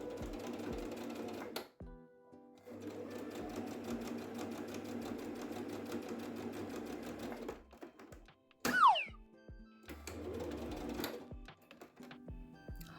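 A sewing machine stitches a fabric tote bag in several runs of steady rapid needle chatter, broken by short pauses. A brief springy twang sounds midway before the stitching resumes.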